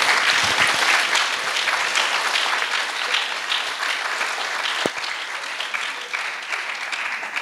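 An audience at a Leipzig book fair talk show bursts into dense, sustained applause that stays loud and even for the whole stretch, one sharp louder clap standing out partway through.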